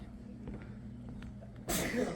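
In a bowling alley, after a quiet stretch of low hum, a single sharp sneeze bursts out abruptly, loud and breathy, close to the listener.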